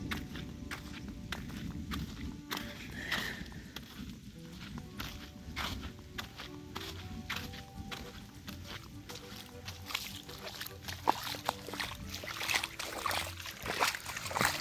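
Heavy rain on a rural road in the Quixadá sertão of Ceará, Brazil, with water covering the road: a steady close wash of rain and splashing runoff throughout, with scattered sharper drips and splashes, no voices.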